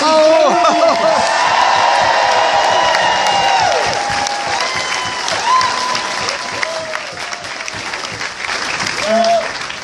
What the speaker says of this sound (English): We're trying to work out who got the biggest cheer.